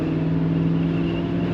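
A 1986 Pontiac Grand Prix Brougham with glass T-tops gives off a steady, deep exhaust rumble under throttle, a loud, close, continuous low drone with a strong engine hum and no speech over it.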